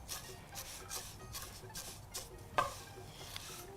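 Vermicelli being stirred as it roasts in ghee in a cooking pot, a steady scraping and rustling with a soft sizzle underneath and one sharper clink of the spoon against the pot partway through; no talking.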